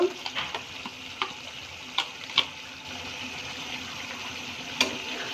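Onions fry for an eggplant curry, a continuous sizzle broken by occasional sharp clinks and scrapes of stirring at a moderate, close distance.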